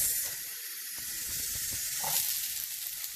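Onions hitting generous hot oil in a pan while cooking cabbage oxtail stew, giving a steady, fairly quiet sizzling hiss with faint crackles throughout.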